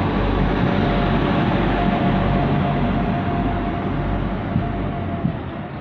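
A train at Swansea station on the South Wales Main Line gives off a loud, steady rumble that runs unbroken from start to finish. It sounds close by, and no voices can be heard.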